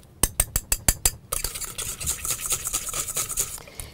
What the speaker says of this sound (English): I'm just going to give that a little bit of a whisk